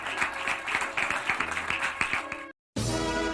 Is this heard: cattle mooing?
no